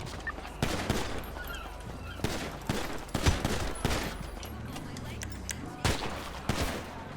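Gunfire in GTA 5 roleplay: rapid bursts and single shots ring out repeatedly in a loud, echoing fusillade, spread across the scene with brief gaps. Voices talk faintly in between.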